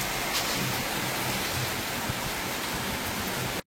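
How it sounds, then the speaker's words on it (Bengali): Heavy rain pouring down steadily, a dense, loud, unbroken hiss and wash that fills the whole stretch without pause. "এত বৃষ্টি করছে, কি ভাল লাগছে।"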